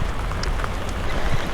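Steady rain patters on a surface, a dense wash of noise with a low rumble underneath, no voices.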